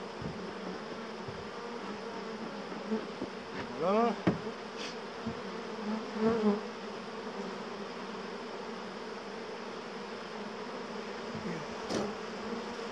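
Dense buzzing of a honey bee swarm at a hive, a steady close drone with a few louder passes of individual bees flying near, and a brief spoken word partway through.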